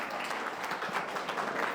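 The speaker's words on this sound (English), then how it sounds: "Round of applause for it." A college audience at a session on AI and digital marketing gives a short burst of applause, fairly faint and brief, with scattered claps blending into a soft wash.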